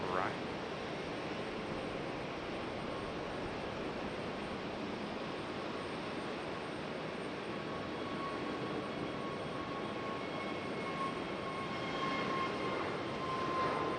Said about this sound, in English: Frontier departing.